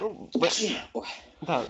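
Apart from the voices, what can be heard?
sneeze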